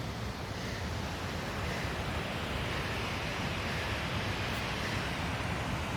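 Waterfall water rushes down hard on a Himalayan mountain trek in Himachal Pradesh, making a steady, loud, broadband roar that holds constant throughout with no voices.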